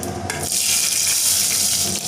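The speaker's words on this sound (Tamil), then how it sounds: "கடுகு வந்து நல்லா பொரிஞ்சிட்ருக்குங்க" Mustard seeds spluttering and popping in hot oil while preparing a Tamil herbal rasam, a steady dense crackle that stays loud throughout with no talking.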